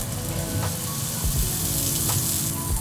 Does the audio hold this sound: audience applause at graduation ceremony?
no